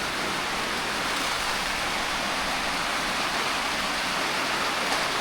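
Rain pours down steadily outdoors in Davao, a dense, even hiss of falling water that holds at a constant level throughout with no voices.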